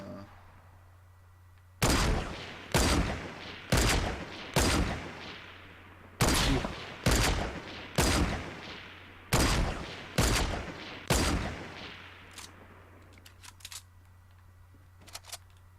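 Gunfire in Fortnite Battle Royale, about a dozen loud single shots in a slow, evenly spaced series, each ringing out briefly, with faint clicks trailing off at the end.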